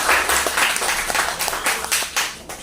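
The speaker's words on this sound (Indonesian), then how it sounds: "Tepuk tangan buat Mas Umam" A classroom claps for a student, a few seconds of moderately loud, uneven clapping from a small group, the individual claps partly distinct and the level dipping and rising as hands fall out of sync.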